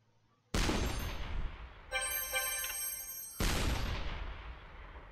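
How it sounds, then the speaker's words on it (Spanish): Tank cannon fire from the Shellshock Live artillery game: a sudden loud blast, a stretch of bright ringing electronic effects, then a second heavy boom trailing off into rumble, with no talk. "el tiro de disparo certero."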